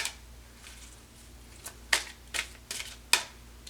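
Arcanum Tarot and oracle cards being shuffled, a soft riffling wash broken by four or five sharp, close card snaps and flicks spaced about half a second apart, with no voices.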